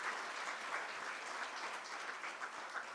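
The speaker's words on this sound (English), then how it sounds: "Can we have a huge round of applause for sir?" An audience at a KIAMS event breaks into sustained applause, a steady even wash of many hands clapping at moderate distance, with no voices over it.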